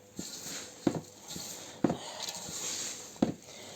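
Garden soil is stirred and mixed in a container for sowing tomatoes and corn, giving several sharp scraping knocks at irregular intervals over soft rustling and shuffling, close by and without talk.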